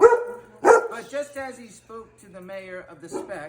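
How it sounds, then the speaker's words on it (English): A dog barks a couple of times under a person reading aloud, with the barks sharp and close. "Sorry, that's my dog barking."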